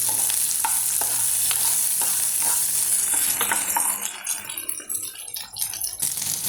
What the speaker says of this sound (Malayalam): ഒരു പച്ചമുളക് കറിവേപ്പില ഇത്രയും ഇട്ടു ഒന്ന് വഴറ്റി കൊടുത്തിട്ട്